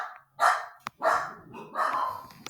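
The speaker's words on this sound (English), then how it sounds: "my dog is going crazy" A dog barks indoors in a few bursts, moderately loud and slightly distant, with short gaps between barks and no speech over them.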